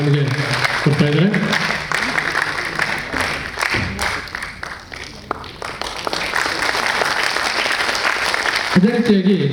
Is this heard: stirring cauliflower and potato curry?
no